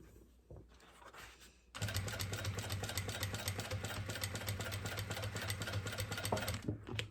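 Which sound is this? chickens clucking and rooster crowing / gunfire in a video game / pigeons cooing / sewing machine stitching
sewing machine stitching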